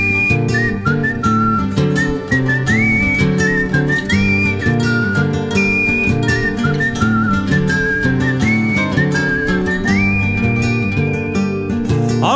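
A person whistles a melody over steady musical accompaniment in a song, the whistled line clear and bright above the instruments.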